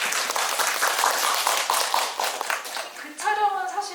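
Audience clapping fills a film screening Q&A in a Myeong-dong cinema, a steady dense patter of many hands for about three seconds before fading as a voice begins speaking over the tail.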